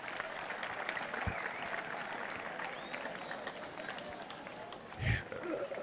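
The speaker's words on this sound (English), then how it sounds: "Can you clap for them?" An audience at a high school alumni day claps in a sustained, fairly distant patter of applause that runs throughout, with crowd noise and a couple of louder thumps mixed in.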